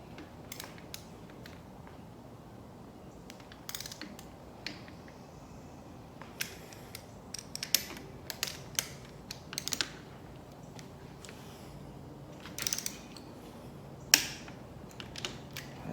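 A socket wrench tightens a bolt on an engine in a garage, heard as close, sharp clicking ratchet bursts and metallic taps scattered irregularly over a quiet background, no voices.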